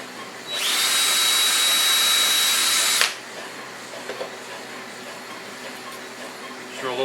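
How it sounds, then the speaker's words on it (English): A power drill bores a small hole through the top of a plastic sphere cup, a loud, steady high whine that runs for about two and a half seconds and stops abruptly, followed by faint handling noise. "Drill a little hole through the top."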